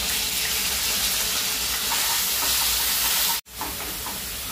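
Whole spices crackle and splatter in hot mustard oil, a dense and loud sizzling hiss that runs almost without a break. It drops out for a moment and then resumes.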